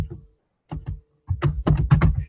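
Keys clack on a computer keyboard as personal details are typed into an online account registration form, a short sparse pair of taps followed by a quicker burst of several close, crisp keystrokes.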